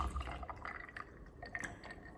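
Water drips and trickles into a glass of Glenlivet 15 whisky, a few soft splashes and small plinks heard close up without talk.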